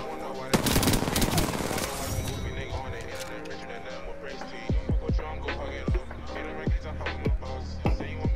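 Video game gunfire: a dense automatic burst early on, then sharp single shots repeating about once a second, with voices and other game sounds beneath.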